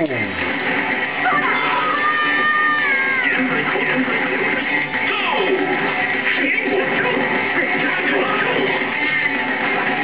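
A cartoon cat meows in the fighting game Tatsunoko vs. Capcom, with repeated mewing calls over busy game music and effects while players talk throughout.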